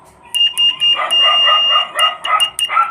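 High-pitched electronic beeping from a continuity tester circuit on a homemade adjustable power supply, in short bursts and longer tones, loud and close, with irregular starts and stops.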